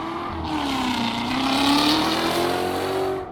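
Tesla and Corvette launching side by side in a drag race at Cleetus McFarland's Freedom Factory, a loud rising engine roar with a climbing tonal whine that swells and holds for a few seconds before easing off, with no talking.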